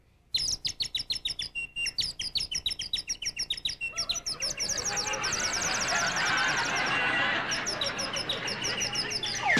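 A voice imitates the mating call of a yellow-throated canary with a rapid string of sharp, high chirps. These give way to a sustained, noisy warbling wash.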